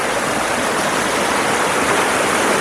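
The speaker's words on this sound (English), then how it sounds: "this bit of waterfall runs here too" A small waterfall rushes nearby at an outdoor landscape spot, giving a loud, steady, full-bodied roar of churning water that holds constant throughout with no pauses.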